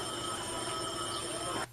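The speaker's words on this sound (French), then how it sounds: "Le téléphone sonnait et sonnait." Telephone ringing inside a street phone booth, heard as a continuous bright electric bell tone sustained steadily for over a second at moderate level, then cutting off abruptly, with no voices.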